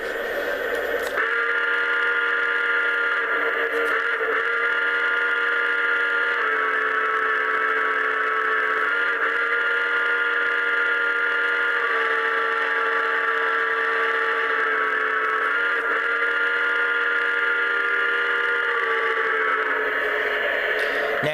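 A Lionel Legacy A6 Atlantic model train, Union Pacific 3304, sounds its electronic steam whistle in a long, steady, loud multi-tone blast that holds for about twenty seconds with slight pitch shifts, ending abruptly.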